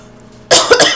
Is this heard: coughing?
yes